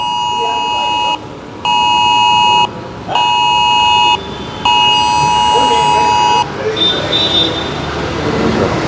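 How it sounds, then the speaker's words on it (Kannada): Emergency alert test tone sounding on mobile phones: loud, steady electronic beeping in four long bursts separated by short gaps, then ending, with murmuring voices and background noise continuing underneath. "ಟೆಸ್ಟಿಂಗ್ ನಡೀತಾ ಇದೆಯಲ್ಲ ಅದು ಎಲ್ಲರ ಫೋನ್ಗೂ ಬರುತ್ತೆ"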